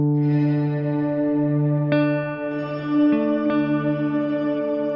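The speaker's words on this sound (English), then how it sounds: "All the way up, or further up, and we'll hear it delay." Shimmer reverb with pre-delay from an Encounter ambient delay+reverb pedal: a sustained guitar chord with shimmering upper overtones, then a few plucked notes whose washy tails bloom slightly late; steady, close, no talking.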